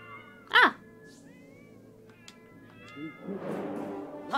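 Cats in the South Park: The Fractured but Whole video game, one loud close meow, then fainter mewing and a rising cluster of cat cries, with brief game voices between.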